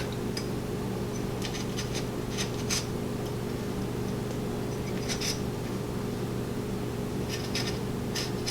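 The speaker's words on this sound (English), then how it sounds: "then you're going to scrape out the seeds with the back of your knife" The back of a knife scraping seeds out of a sliced-open vanilla bean pod, short raspy strokes in small bursts separated by pauses, over a steady low background hum.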